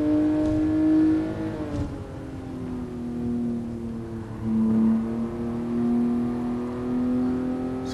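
Toyota 2000GT '67 driven through Tokyo in Gran Turismo Sport, the engine revving and easing as gears shift, a steady tonal drone rising and falling in pitch with throttle, fairly close and alone.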